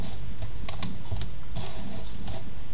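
Typing on a computer keyboard while entering a search in the Zabbix monitoring interface, scattered keystrokes and small clusters of clicks over a constant loud background hiss.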